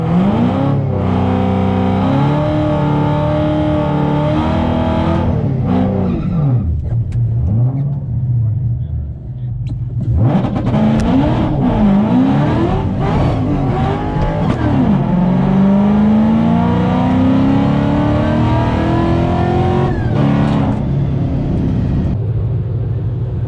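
A car fitted with Tokico D-Spec adjustable suspension racing on a track, its engine revving up and down through repeated gear changes, loud and close throughout, with a voice speaking over it at times.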